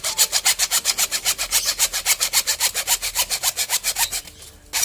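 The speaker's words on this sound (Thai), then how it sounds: "เลื่อยเอามาเลื่อย PVC PVC มันไม่ได้แข็งอะไรมาก" A hacksaw with a dulled blade rasps back and forth through PVC in fast, even strokes, loud and close, about five strokes a second, stopping briefly near the end.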